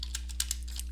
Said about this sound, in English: you type in your code, whatever the case may be.